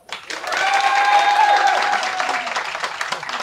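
Audience at an improvisation theatre show clapping to vote for a performer, a full round of applause swelling quickly and holding steady before thinning out, with some whoops and voices tangled into the clapping.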